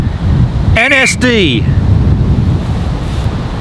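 Strong outdoor wind buffets a RODE VideoMic Pro+ fitted with two wind shields. It makes a loud, constant low rumble, and a short burst of speech comes partway through.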